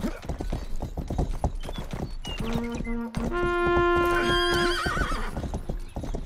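A horse in the western video game Rustler whinnies loudly and long, with a steady clip-clop of hooves running beneath it throughout.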